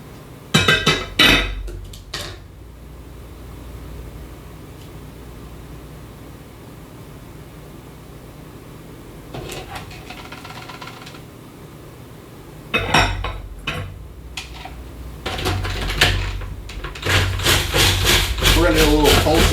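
Food processor pulsing ground pork rinds into a bread mix, several short bursts of whirring and rattling at the start, middle and end, separated by quieter stretches of low hum.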